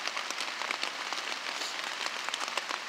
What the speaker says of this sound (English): It's just raining crap that sucks ass.